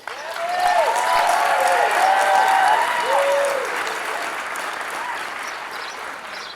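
A commencement audience breaks into sustained applause for the incoming speaker, a broad wash of clapping that swells, holds steady, then eases slightly. A voice carries faintly through it.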